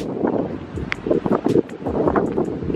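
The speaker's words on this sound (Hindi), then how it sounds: "इतनी मस्त हवा चल रही है ना, ठंडी ठंडी हवा" Cool wind blowing across Vagator beach in Goa, gusty buffeting rushing against the microphone with uneven swells, loud and close.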